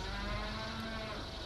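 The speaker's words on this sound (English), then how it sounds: "Is that a fucking cow?" A cow moos in the video game Metal Gear Solid 4: a long low, steady bellow carried over a dense, continuous game soundscape, without voices.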